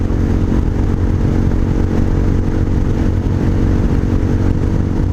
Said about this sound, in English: ranges of sound coming out of the exhaust when you accelerate.